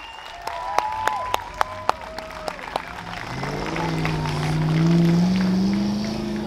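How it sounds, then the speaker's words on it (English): Crowd applause at a Mopar car show after a General Lee Dodge Charger stunt: sharp claps build into sustained clapping, joined by a car engine droning underneath toward the end. "Everybody give him a big round of applause."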